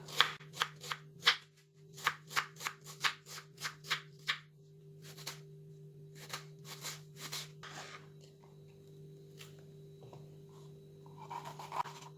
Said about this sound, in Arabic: عندي هنا واحد حبه بصله صغيره، كذلك حبه فلفل غنقطعهم على شكل مكعبات صغيره